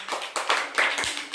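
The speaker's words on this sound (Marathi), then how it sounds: "टाळ्या वाजवा" Young children in a primary maths class clap together in a few loose bursts, soft and roomy, with uneven rhythm over a brief moment.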